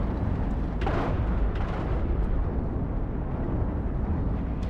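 Deck cannons firing aboard a spaceship in Cosmoteer, a continuous rumbling barrage of dull booms with a couple of sharper bursts near the start, steady and loud with no voices.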